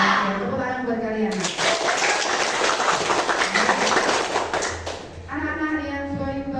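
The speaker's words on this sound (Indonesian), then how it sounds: "Tepuk tangan buat kalian." Students applaud together in a classroom, a burst of clapping lasting a few seconds between a teacher's spoken greetings, fairly close and moderately loud.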